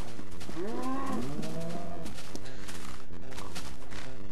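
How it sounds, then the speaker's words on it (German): Cows moo in the Minecraft video game, a few drawn-out bovine calls overlapping early on, then fading into a busy background of game sounds, loud and close. "So, 3 neue Kühe."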